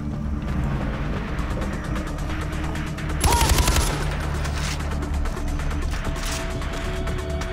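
Gunfire from a gun in the shooter game Far Cry 4: rapid, repeated shots run throughout, with a louder, heavier burst in the middle. Continuous game background noise sits underneath, and no one speaks.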